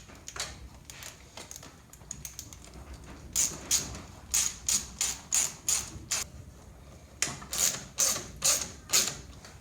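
A series of quick metallic ratcheting clicks in short bursts as hose clamps are tightened on a homemade vacuum and boost leak tester, pausing briefly between rounds, close and fairly crisp.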